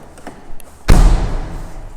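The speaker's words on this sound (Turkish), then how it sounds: "En iyi kapanan kapı bu kapı." A well-closing door on a Tofaş Şahin car shuts with a single firm, close thud after a few light taps, followed by a short fading resonance.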